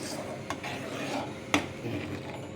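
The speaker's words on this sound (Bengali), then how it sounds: "ছানাটা এরমভাবে বার নাড়তে থাকতে হবে যাতে না ছানার একদম ডলা পাকিয়ে যায়" Chhana (cottage cheese) being stirred in a pan while making sandesh, a steady soft scraping and rubbing with a couple of sharp utensil clicks against the pan, fairly close and moderately quiet.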